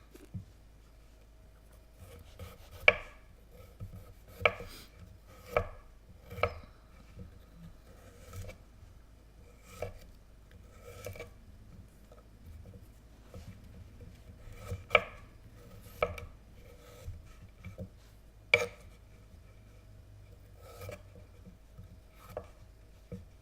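Knife blade chopping food on a cutting board while preparing bo ssam: irregular sharp taps, some isolated and some in quick clusters, close and fairly loud with no voices.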